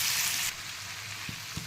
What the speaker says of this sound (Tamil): இது நல்லா தக்காளி பழம் நல்லா மசிஞ்சு வேகட்டும்